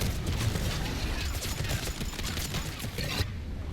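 Rapid bursts of gunfire from the video game Mass Effect 3 fill the clip at steady loudness with dense, overlapping shots throughout, dropping briefly near the end.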